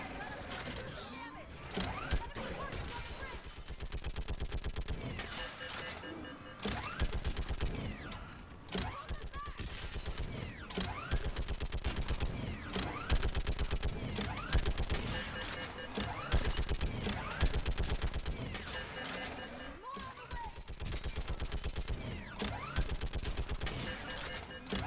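A mounted gun firing in Mass Effect 3, a near-continuous rapid stream of loud shots with mechanical clatter and explosions throughout, with occasional game voices mixed underneath.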